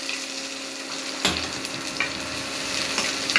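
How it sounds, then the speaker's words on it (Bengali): Chopped onions sizzle steadily in hot oil in a pan for river rita fish curry, a dense continuous frying hiss with a few soft stirring clicks and scrapes, close and alone without voices. "রান্নার জন্য প্রথমে আমি তেল দিলাম, এবার আমি পেঁয়াজ দিলাম"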